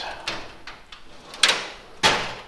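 Metal drawer of a Mac toolbox sliding open, with scraping runs and a couple of sharper clunks as the worn slide catches and moves.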